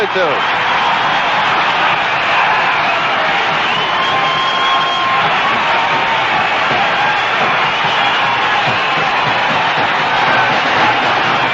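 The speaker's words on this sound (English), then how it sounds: "Listen to this crowd. Everybody in the ballpark on their feet." Baseball stadium crowd during a Blue Jays at Indians game, a loud, sustained roar of cheering from the whole ballpark with people on their feet, steady throughout under a radio announcer's voice.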